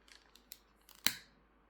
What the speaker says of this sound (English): Cut this one off straight across so I can feel that string.